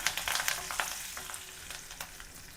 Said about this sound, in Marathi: ते टाकते दहा ते बारा कढीपत्त्याची पानं चांगलं परतून घ्यायचं आहे